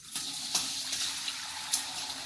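Chicken bone broth strained through a colander into a kettle, a steady wet rush of liquid with a few louder splashes spread across the pour, fairly close.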